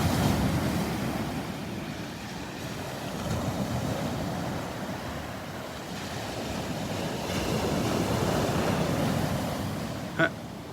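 Steady surf washing onto the beach at Delnor-Wiggins on a Saturday morning, a continuous broadband roar with slow swells in loudness, some wind rumble on the microphone and a brief knock near the end.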